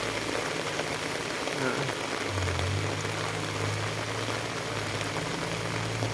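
Steady rain falls outdoors in a second downpour, a dense, even hiss of drops on surfaces that continues unbroken, with a faint voice briefly underneath.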